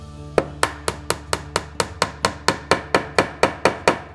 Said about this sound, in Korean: 안에 공간이 못을 박으면 안에서 울리면서 소리가 명쾌한 소리가 들리는데 다 들어가면 둔탁한 소리가 들립니다